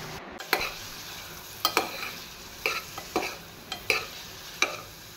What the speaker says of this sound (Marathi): हळदी पिट्टी आणि मिरसांगे पिट्टी घालून लायक करून एक फावटी मिक्स करता.